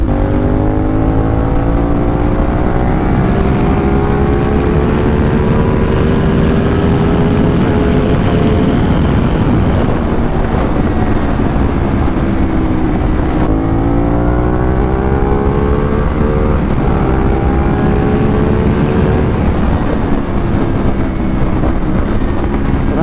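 A CF Moto 450SR motorcycle with a loud Akrapovic exhaust roars close by, its pitch climbing steadily, then dropping abruptly midway as it downshifts before climbing again.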